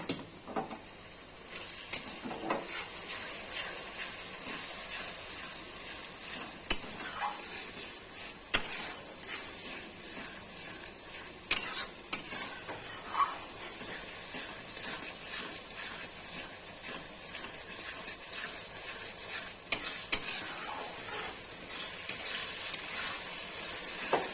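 Spices with turmeric and a splash of water frying in a pan as a base for red chicken curry, a steady close sizzle broken by occasional sharp scrapes and clacks of stirring, no voices.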